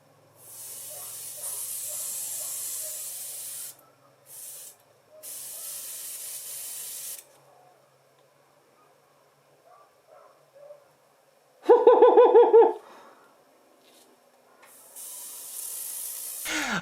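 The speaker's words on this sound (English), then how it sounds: "I'm going to crank up the pressure slightly to help it go through the airbrush" Airbrush spraying varnish at raised pressure gives several steady hissing bursts of a few seconds each with pauses between, plus a brief buzzing compressor-like pulse midway.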